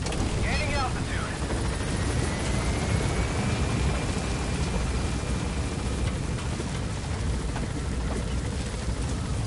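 A helicopter climbs in the Metal Gear Solid V video game, making a steady, loud rotor and engine roar with a wind-like rush. The sound holds constant and close throughout.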